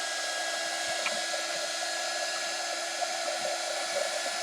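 Heat gun blowing hot air over a metallic journal cover, a steady close whooshing hum with faint soft rustles, no talking.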